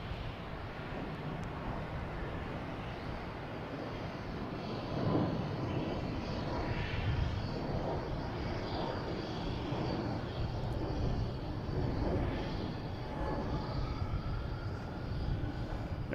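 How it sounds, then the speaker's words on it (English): JetBlue Airbus A220 jet departing Boston Logan Airport, a steady broad engine roar that swells and holds, heard from a distance without talking. "We have a JetBlue heading to Cleveland in A220."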